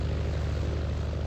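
Propeller plane engine in a flight simulator video game, a steady loud droning hum with a low throbbing pulse that runs unbroken, with no talk.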